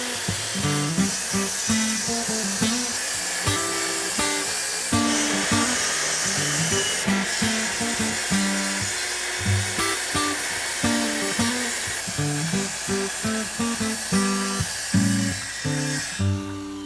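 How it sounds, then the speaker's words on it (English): A power saw cuts through plywood while installing a home fire sprinkler system, a loud, continuous roaring buzz broken by rhythmic lower thumps as the blade bites along the cut, running steadily throughout. "The saw blade is adjusted so that it cuts through the plywood, but not into the work surface below."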